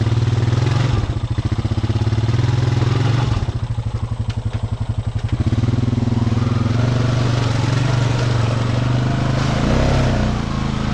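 A Honda Rancher ATV revs hard in a mud hole with its tires spinning. The engine drones loud and steady, with stretches of rapid chugging pulses as the wheels churn. No one talks.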